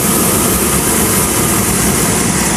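Continuous loud broadband roar of a SubSonex jet aircraft engine in flight, heard steadily from inside the small plane with no talk.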